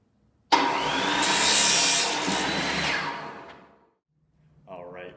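A hand saw cuts through a length of PVC pipe in a single continuous burst of rasping strokes lasting a few seconds, close and loud, then stops; a voice speaks briefly afterward.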